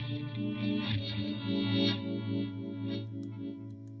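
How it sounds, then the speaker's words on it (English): Electric guitar through a pedalboard, a reverse reverb stacked with another effect, rings out as sustained, swelling distorted chords with shimmering, chorus-like layers fading slowly, loud and close with no talking. "That's a and that's a reverse reverb,"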